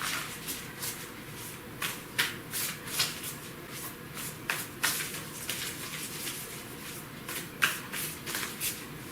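Oracle card deck being shuffled by hand, a series of close, crisp riffling bursts repeating at irregular intervals, fairly quiet with no talk.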